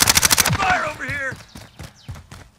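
Rapid automatic gunfire in a video game firefight opens with a quick burst of shots, then scattered single shots and bursts continue under excited shouted voice chat.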